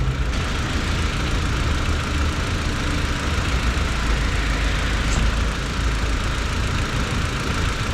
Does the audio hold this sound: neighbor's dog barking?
no